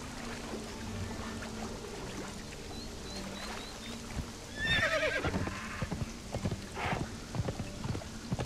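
A horse's hooves clip-clop in the survival game Conan Exiles, with a whinny and a quick cluster of louder hoofbeats midway, then scattered footfalls against a quiet outdoor backdrop.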